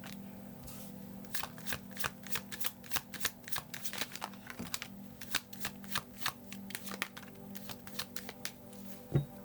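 A tarot card deck being shuffled up close, with repeated crisp riffles and card slaps in an uneven rhythm over a steady low hum, fairly quiet.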